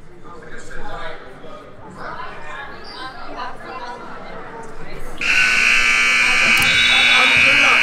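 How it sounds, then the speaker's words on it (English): A malfunctioning buzzer at an amateur high school basketball tournament blares loud and continuous through the last few seconds, following a stretch of crowd chatter and voices in a gym. "A little technical difficulty with the buzzer, but that's okay."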